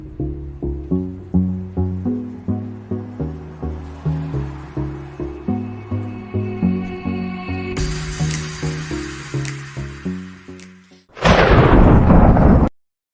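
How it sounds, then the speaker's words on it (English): A dramatic thunderstorm sound effect builds from rhythmic rumbling pulses into a sudden loud thunder crash that roars briefly before cutting off, with no voices. "Dramatic thunderstorm sound for you, friend."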